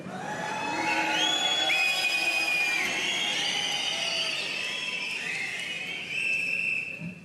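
Loud, shrill whistles from a political rally crowd, long sustained tones sliding up and down over cheering and whooping, rising and falling for several seconds.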